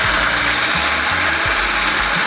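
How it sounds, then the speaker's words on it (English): An electric hand mixer's steady, loud whirring motor buzzes continuously with a broad hiss, rattling slightly as it runs without pause. "just use the electric hand mixer."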